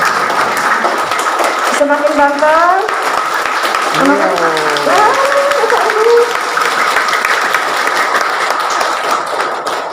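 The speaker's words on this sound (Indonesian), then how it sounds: "kita tepuk tangan sama-sama" Audience clapping together during a curriculum workshop for high school teachers, a steady wash of applause throughout with a few people speaking and calling out over it.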